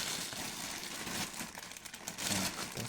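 A plastic parcel bag crinkles and rustles steadily for a few seconds, close up, with short louder crackles near the end and no talking.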